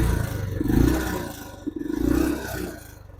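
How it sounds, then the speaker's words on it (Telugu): A used Royal Enfield motorcycle engine idles up close with a heavy, uneven thumping beat and short rises in revs, with no talking. "సో ఒకసారి అయితే మనము స్టార్ట్ చేసి ఇంజన్ సౌండ్ అయితే చూద్దాము."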